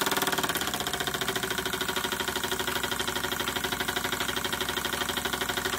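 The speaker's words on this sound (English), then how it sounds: "steam engines just sound really good when they're working under a load" A Retrol SE-02 model steam engine driving a small generator runs under load, producing a steady, rapid rhythmic chuffing and mechanical clatter that stays close and even throughout, with no voices.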